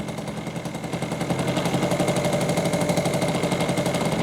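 An old Honda two-stroke engine with a freshly cleared exhaust idles steadily close by, a rapid crackling putter that swells slightly in the first second, then holds an even, busy rhythm, with no voices.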